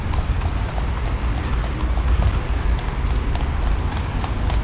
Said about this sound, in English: Typical little horse and buggy.